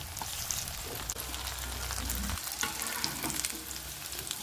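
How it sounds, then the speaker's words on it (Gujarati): Chicken cutlets shallow-fry in a pan of oil with a steady, close crackling sizzle, briefly joined by stirring or scraping sounds. "તેલ નાખીને એને સેલો ફ્રાય જેવું કરવાનું છે"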